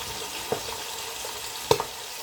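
Milkfish (bangus) frying in hot oil, a steady low sizzle with two sharp spattering pops, close by and with no talking.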